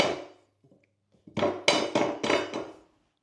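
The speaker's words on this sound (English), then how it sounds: "And lightly hammer it in, and that's gonna close that gap over there." Several sharp hammer blows drive a wooden bar into place while building a tiny office, about five close, loud knocks in a quick, even rhythm after a few faint bumps of positioning.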